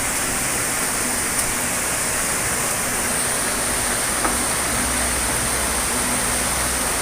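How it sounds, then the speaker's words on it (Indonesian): A waterfall beside an ancient cave site deep in an East Java forest roars as a constant, dense rush of water, close and loud, with no voices. "Tepat di samping air terjun yang sangat memukau."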